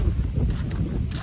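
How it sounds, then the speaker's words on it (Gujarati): Cold wind gusts buffet the microphone outdoors, a loud low rumbling roar with uneven swells throughout. "અહીંયા પહોંચીને ભાઈ એવો ઠંડો પવન આવ્યો"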